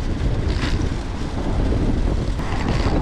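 Strong wind buffets the microphone in a loud, continuous roar with gusty rumbling throughout.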